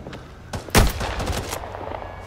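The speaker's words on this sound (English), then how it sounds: "I'm getting shot at." Gunfire in Rising Storm 2, a few scattered shots followed by one loud sharp close report and a ragged volley of distant cracks tailing off.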